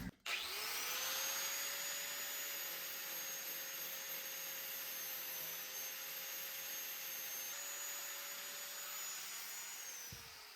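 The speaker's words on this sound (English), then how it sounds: "we're gonna grind it to the proper shape with the template" An angle grinder shapes welds on a rotten 1994 Mazda MX5 Miata door during repair, spinning up to a loud, steady whine that holds for about ten seconds before cutting off.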